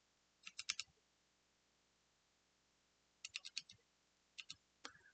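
Typing on a computer keyboard, close and quiet: a quick cluster of clicking keystrokes, a pause of about two seconds, then another burst and a few separate taps.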